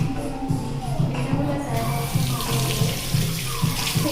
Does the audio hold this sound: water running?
yes